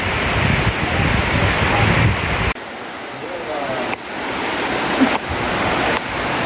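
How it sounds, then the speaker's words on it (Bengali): Heavy rain and strong wind roar as a loud, continuous broadband rush, with several abrupt shifts in intensity. "আর জোর বৃষ্টি হচ্ছে, আর হাওয়া হচ্ছে ভীষণ"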